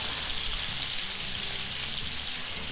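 Shrimp fry in a pan with a constant, loud hiss and crackle of sizzling oil, steady and close with no pauses.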